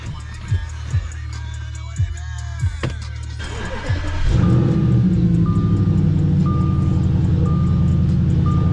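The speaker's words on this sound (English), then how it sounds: "Here's a cold start" Car engine cold start: a few short cranking thumps and a faint warning chime, then the engine catches and settles into a loud, steady rumbling idle with a repeating beep.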